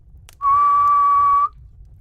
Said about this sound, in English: I seemed to hear a low whistle